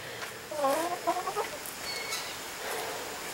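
Hens clucking inside a backyard chicken coop, a short run of close, rhythmic clucks and chortles over steady low background noise, with a faint higher call afterward.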